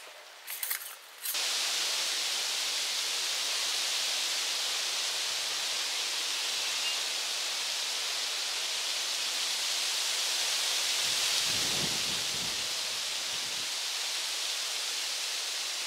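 Steady, broad wind rushes and roars outdoors at a ground cover installation, filling nearly the whole stretch evenly after a brief rustle at the start, with a faint low thump partway through.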